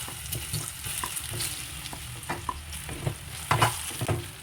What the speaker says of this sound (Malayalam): ഈ പഴം ബ്രൗൺ നിറമാവുന്നത് വരെ ഫ്രൈ ചെയ്തെടുക്കാം.